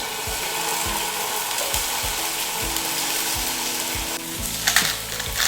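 Tofu sautéing in a little oil in a pan makes a constant sizzle under a regular, rhythmic mechanical ticking, with a louder clatter near the end.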